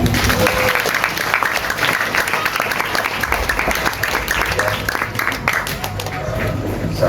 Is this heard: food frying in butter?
no